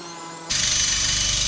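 A DeWalt cordless drill bites into the steering of an RC crawler, starting abruptly after a moment of quiet and then running loud and steady, a close high-pitched whine with no talking.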